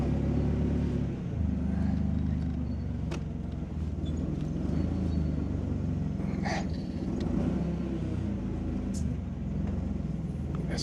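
A forklift engine rumbles steadily at close range while it makes a quick turn on concrete, a low droning idle with faint clanks and brief mid-range knocks over it.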